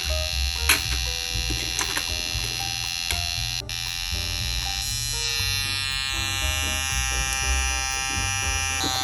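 A DIY NE555 PWM-controlled circuit drives a small speaker with a harsh, steady buzzing tone whose pitch shifts partway through as a potentiometer is turned, loud and close with no talking.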